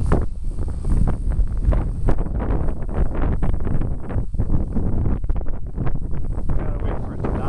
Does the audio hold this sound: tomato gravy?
no